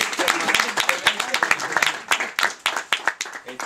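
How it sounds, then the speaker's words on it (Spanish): An audience applauds returning guests at a curanto gathering: a brisk crowd of hands clapping close and lively, thinning toward the end into sparser claps. "yo voy a pedir un aplauso para los reincidentes"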